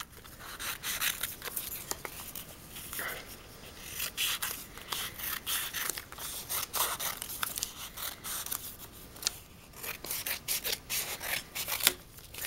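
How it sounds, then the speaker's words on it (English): Scissors snipping around vinyl stickers, leaving a border around each design in a classroom craft setting: steady close rapid cuts and crisp paper-like snips, with faint rustling of the sheet, no talking. "we're just going to cut it out."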